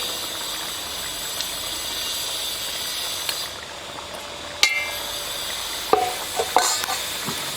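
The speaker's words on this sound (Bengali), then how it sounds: "এর মধ্যে আমি ভেজে রাখা মাছগুলো দিয়ে দেবো এখন।" Fried koi fish go into a simmering curry of dal, with a low sizzle, then several sharp clanks and scraping stirs of a spatula against the pan near the end.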